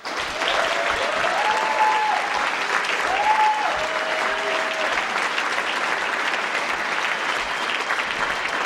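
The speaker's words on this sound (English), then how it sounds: "put your hands together for Harold Preuss." A stand-up comedy audience applauds a comedian, steady dense clapping that sustains throughout, with a few cheers or whoops rising briefly above it.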